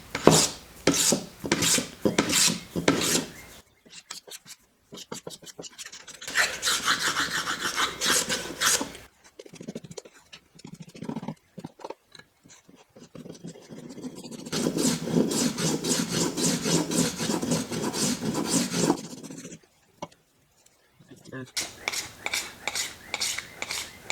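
Hand-tool chamfering along the edge of a wooden workpiece for a flip-up bench stop, held without a vise: rough rasping strokes come in long bursts separated by brief pauses, close and fairly loud, with no talking.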